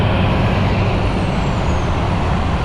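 A truck air brake lets out a steady, broad hiss, loud and sustained over the full span with a low rumble beneath and no voices.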